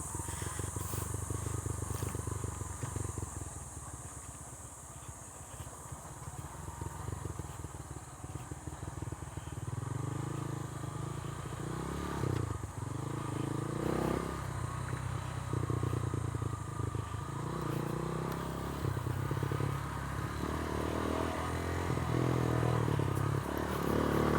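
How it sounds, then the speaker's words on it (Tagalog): A motorcycle climbing a sandy, difficult mountain backdoor trail in Capas, Tarlac, its engine droning and revving unevenly for a long stretch with rattling and clatter, close and steady with no voices. "Nagpipistil yung motor, ganun-ganun."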